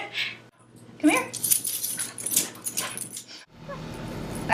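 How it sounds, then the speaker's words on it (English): A woman's emotional support dog whimpers and yips softly at close range, with brief rustling and a short pause between the sounds. "She's my emotional support dog."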